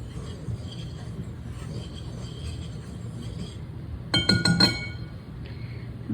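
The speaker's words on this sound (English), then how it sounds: "I'm just going to whisk this together." A whisk knocks around a bowl of dry ingredients mixed with salt, making a short burst of bright clinking near the end of a quiet stretch, close by and with no talking.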